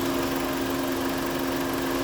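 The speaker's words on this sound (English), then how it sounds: "It's cooling up the engine by this rad fan." Radiator fan on a 2001–06 Chrysler Sebring running under the hood, a steady, dense whoosh of moving air with a constant low hum, unbroken and fairly loud with no voices.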